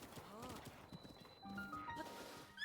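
Horse hooves clip-clop in the Breath of the Wild video game, a steady galloping patter running under a man's speech alongside game music and effects.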